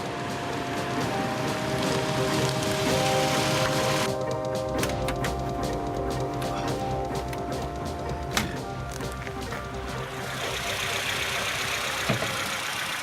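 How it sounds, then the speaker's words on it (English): An M10 racing engine, a 1.5-litre inline four-cylinder mounted offset from the vertical, runs at a steady idle, a continuous mid-level drone with a few faint clicks and no talk. "So there it is, the M10 engine."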